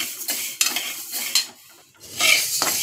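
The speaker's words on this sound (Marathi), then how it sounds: "तर आता मी भाजून घेते" Fenugreek seeds being dry-roasted and stirred in a pan for sweet methi laddoo, giving rasping, scraping strokes of the spoon with light sizzle, in short bursts separated by a brief pause, with no talking.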